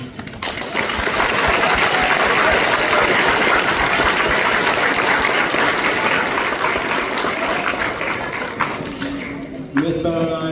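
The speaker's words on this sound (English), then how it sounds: "Can we get another round of applause for our students?" Loud, sustained applause from a concert audience for school band students at a spring concert, a dense wash of clapping that fades toward the end as a voice begins.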